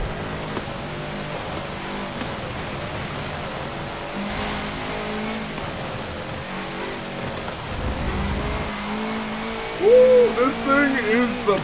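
A Subaru WRX drives in Forza Motorsport 7, its engine droning and revving steadily throughout with a louder surge near the end, while someone talks over it.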